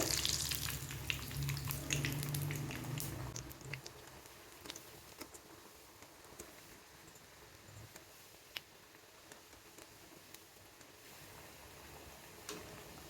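Bread balls frying in hot oil, a steady crackling sizzle with scattered sharp pops and ticks, louder at the start then settling, close and unaccompanied by talk.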